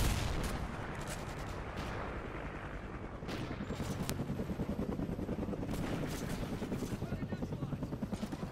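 Helicopter rotor chop in the Old Ghosts video game, a steady pulsing thump holding through the scene amid heavy gunfire and explosions, with radio-style voice callouts over the din.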